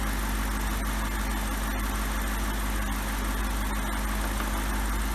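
A BMW E64 650i V8 idles steadily after a PCV valve replacement, a continuous even hum with a low rumble and no voices.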